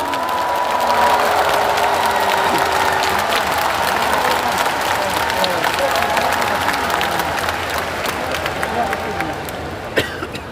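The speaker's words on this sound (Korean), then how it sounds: "이재명 정부의 성공을 위해 이분들께 큰 박수 부탁드립니다." A party convention audience applauds steadily for about ten seconds in a large hall, with dense continuous clapping that thins out slightly near the end and has a few coughs and murmurs mixed in.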